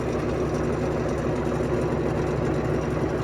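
Steady low engine drone of a Samko 580 combine harvester running continuously while threshing soybeans in a large field, constant and fairly close with no talk.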